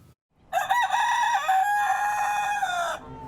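A rooster in a backyard gives one loud, close crow that holds for over two seconds before trailing off, with no talk over it.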